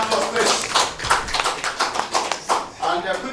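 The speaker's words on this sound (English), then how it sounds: "Round of applause, please." A crowd at a football event gives steady, dense applause, many hands clapping loudly and continuously throughout, with some voices mixed in underneath.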